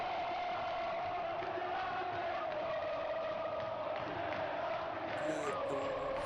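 Flamengo football fans chant a song in unison, a dense, steady crowd singing heard at a distance through a slightly muffled, band-limited recording.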